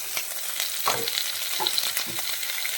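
Onion, garlic, ginger and green chili frying in a pan for chicken stew, a steady close sizzle with scattered stirring scrapes and soft clatter, no talking.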